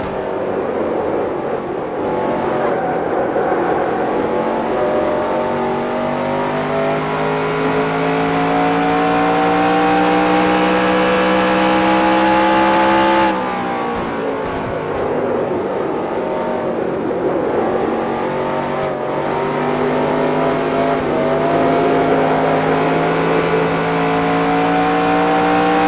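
Race car engine from the NASCAR Racing 2003 video game, a loud continuous high-revving drone that climbs steadily in pitch, drops sharply at a gear change or throttle lift midway, then builds again, heard alone without talk.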